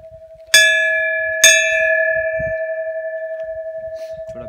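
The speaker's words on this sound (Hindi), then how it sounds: "मैं घंटी बजा रहा हूँ" A metal bell is struck twice in quick succession at Chandrashila on the Tungnath trek, each clear ring hanging and slowly fading, with faint background sounds and no speech.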